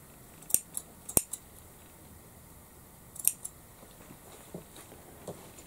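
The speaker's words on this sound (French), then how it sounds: "je coupe les fils et j'aplatis ma couture" Sharp scissor snips cutting loose threads from a sewn seam on a pin-up dress bodice, a few quick clustered cuts near the start, another around the middle and softer ones later, close and otherwise quiet.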